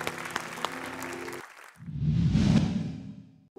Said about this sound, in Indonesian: Tepuk tangan dulu dong untuk Mbak ini ya.